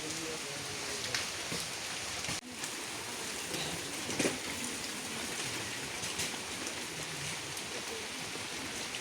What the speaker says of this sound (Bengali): বৃষ্টিটা কিন্তু জোরে আইতেছে